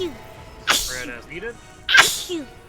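Two sharp human sneezes about a second apart, close and loud, with people talking around them during a Final Fantasy XIV gaming session.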